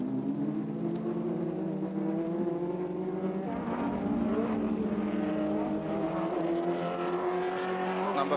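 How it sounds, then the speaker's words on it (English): Historic racing cars, Porsche 917 and Ferrari 512 era, racing at the Montlhéry circuit in France, engines droning steadily at mid distance with a car passing and shifting pitch midway, no talk. "checkered flag there for Bernard Perouche, the winner from Jean-Jacques Gravier."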